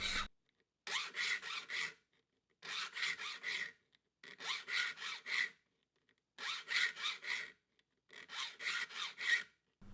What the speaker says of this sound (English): There's something about sharpening a saw that's zen-like.